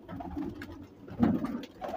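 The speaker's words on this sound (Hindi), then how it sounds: "काफ़ी अच्छे अच्छे कबूतर हैं" Indian pigeons coo in close, soft, throaty bursts, a couple of rolling calls swelling and fading over a quiet background.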